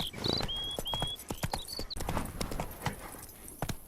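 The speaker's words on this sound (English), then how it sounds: "Giddy up. Come on, Roach" Hooves of the horse Roach clip-clop steadily at a trot in The Witcher 3: Wild Hunt, a brisk repeating rhythm with faint tonal game sounds over it and no talk.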